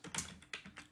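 Fingers typing a web address into a browser's address bar on a computer keyboard, a few quiet, close key clicks in quick succession, with no talk.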